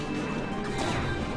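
A forward smash attack lands in Super Smash Bros. Brawl during a Marth versus Jigglypuff match, a single loud crashing hit with a swishing tail, heard alone without talk.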